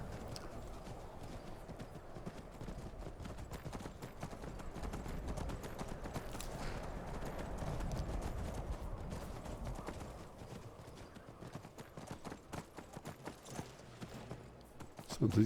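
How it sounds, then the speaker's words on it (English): Steady clip-clop of horse hooves trotting along in the video game Skyrim Special Edition, continuous and fairly close, with a few sharper hits near the end and no talking. "Now I hope that Carjo's got his horse."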